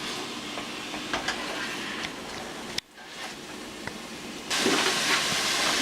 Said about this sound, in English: now that we added the cilantro and stirred it in a little bit, you can hear it cooking